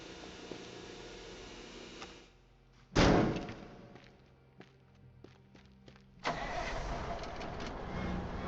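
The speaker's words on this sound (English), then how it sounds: "Raise car lift." A car lift in a garage workshop starts raising: after a sharp loud clunk and scattered clicks and footsteps, a steady broadband motor and pump whir kicks in and runs continuously at close range to the end, with no talk.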